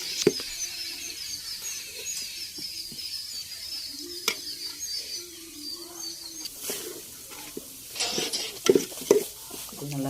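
Chicken biryani masala sautés in a pan in a village kitchen, a steady low sizzle broken by scraping stirs and a few sharp clicks, with faint background sounds near the end.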